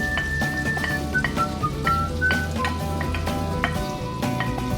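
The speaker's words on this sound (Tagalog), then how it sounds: "maglagay lang tayo ng a teaspoon of sea salt para may lasa yung ating onion at saka mag-caramelize talaga siya na napaka-tamis" Onions frying with sea salt in a pan as they caramelize, a close steady sizzle with crackles and pops plus occasional clinks of stirring, no talk.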